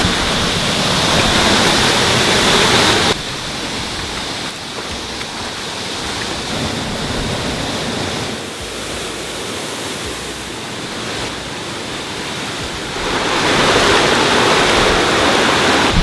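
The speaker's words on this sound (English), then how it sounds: "the waterfall was cool" Loud, steady rushing of a waterfall, a dense broadband roar that dips slightly in the middle and swells again toward the end.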